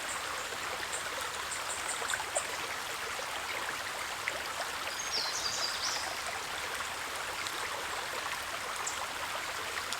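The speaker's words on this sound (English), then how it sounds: "It's just a little creek, but I love it." A small creek flows steadily, a continuous close bright rush and babble of water with no voices, with a faint birdlike chirp partway through.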